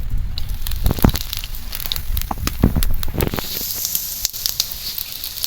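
Sugar, dried chilli, a small cardamom and whole cumin sizzle in hot oil in a wok, a steady crackling fry with sharp pops and spits scattered throughout, close and fairly loud, no voices.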